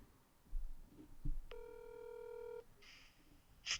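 A single long electronic telephone ring tone sounds once, preceded by a few soft clicks and followed by faint high chirps, fairly quiet overall.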